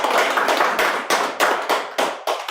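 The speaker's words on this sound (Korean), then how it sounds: "한번 박수라도 한번 쳐주시면 고맙습니다" Audience clapping at a lecture on Korean unification, loud and close with a steady burst of many hands that swells in rhythmic pulses, no voices over it.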